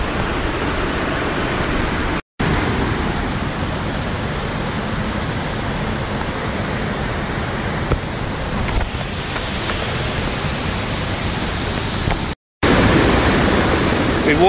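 Constant thunderous roar of Iguazu Falls on the Argentinian side, a broad unbroken rushing wash of falling water heard close and loud, interrupted only by two brief dropouts.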